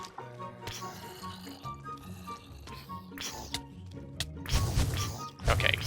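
Water staff attack from the Elementary Staffs mod in Minecraft 1.16.5, a liquid splashing and dripping effect with wet slaps and squishes, louder bursts near the end over steady game music.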